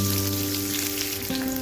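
Onions sautéing in a pan with mustard seeds and curry leaves give off a steady, close frying sizzle with a low hum underneath, continuous and alone for under two seconds.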